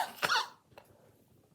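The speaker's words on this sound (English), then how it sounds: "That was me coughing." One short, sharp cough up close, followed by faint quiet room noise.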